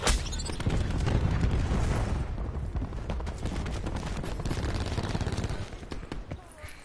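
Cluster grenade blasts go off in a shooter game, a dense run of booms and rapid crackling pops that fades in the final second.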